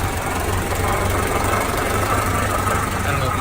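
A Honda B16A3 engine runs at a steady idle, close and loud, while its timing belt rubs against the belt cover. A constant mechanical whir and knock sit under the engine hum.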